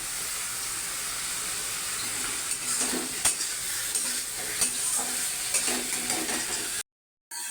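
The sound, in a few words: fish head frying and being stirred in spice paste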